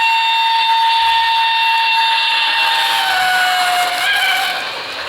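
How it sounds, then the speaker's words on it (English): A model Pennsylvania steam engine sounds a loud, sustained, multi-tone whistle that holds steady for several seconds, then bends down in pitch toward the end before fading slightly. "The Pennsylvania steam engine that it is a prototype of, or was the prototype for it, had a particular whistle."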